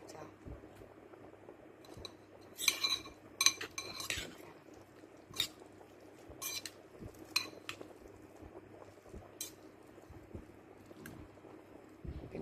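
Cutlery clinks against a dish while rice is mixed by hand, a few bright scraping taps in short clusters over a low steady background hum, with soft talk nearby.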